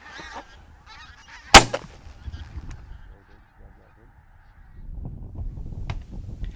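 Geese honk and call in the distance during wildfowling in Scotland, with a sharp loud crack near the start and rustling, wind-like noise building toward the end.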